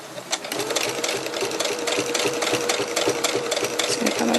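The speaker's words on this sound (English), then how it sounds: "I'm just going to back stitch there as well, just to make sure it's nice and secure." A sewing machine back stitching oven mitts, its needle hammering in a fast, steady mechanical rattle, close and loud, with no talk over it.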